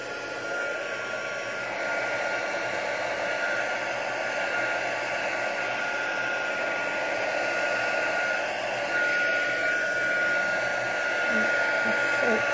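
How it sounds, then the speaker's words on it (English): Heat gun blowing over a painted card in a craft setting, giving a steady, close whooshing roar that holds at an even level throughout, with no talk. "I'm just going to dry it off with it using the heat gun"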